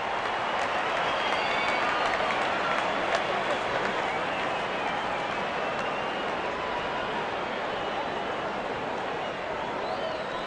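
A cricket crowd in the Real Cricket 22 video game cheers and applauds in a steady, dense roar that holds for about ten seconds, with commentary talk running over it.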